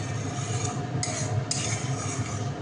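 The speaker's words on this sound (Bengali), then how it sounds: "জল দিয়ে মশলাটাকে কষাতে হবে" Spice masala simmering with water for Bengali aloo dum gives a low, steady bubbling hiss. Two short scraping bursts break through as it is stirred. No one speaks.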